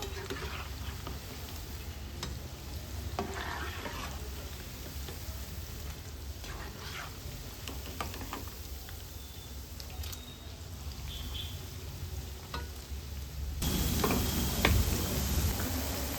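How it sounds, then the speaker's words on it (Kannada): Cauliflower gobi frying in oil while being stirred: a soft, continuous sizzle with light tapping and scraping of the spoon, growing louder and brighter near the end, with no talk. "ಚೆನ್ನಾಗಿ ಮಿಕ್ಸ್ ಮಾಡ್ಕೊಂತ ಗೋಬಿನ ಫ್ರೈ ಮಾಡ್ಕೊಳ್ಬೇಕು."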